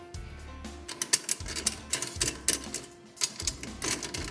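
A drum key turns the tension rods into the lugs of a Ludwig Acrolite snare drum, giving quiet, close, repeated ratcheting clicks and metallic ticks in short uneven bursts with brief pauses between, no voices.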